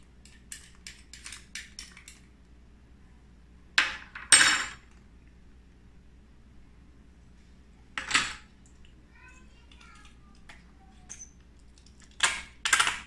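Two large spoons clink against a bowl in sharp, separate bursts with quiet gaps between them, close and bright.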